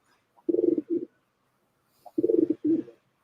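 A pigeon gives an angry mating coo in two close, loud bursts of throaty rolling coos, each a run of quick pulses, separated by a short quiet gap.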